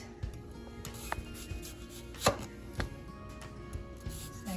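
A knife dices a white onion on a cutting board, with scattered, irregular chops, one sharper knock standing out among softer taps against a quiet background.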